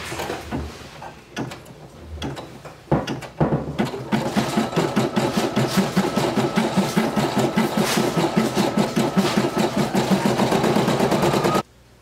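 A Brother PE800 embroidery machine stitches bean-stitch letters, starting with a few separate clacks and then settling into a fast, steady mechanical chatter that runs for several seconds before stopping abruptly.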